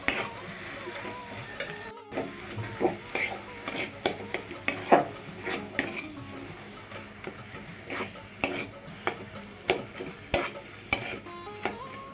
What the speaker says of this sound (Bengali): এখন ভালো করে এটাকে কষিয়ে নিতে হবে।